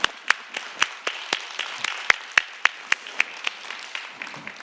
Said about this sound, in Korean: 영광의 박수 한번 올려주면 좋겠습니다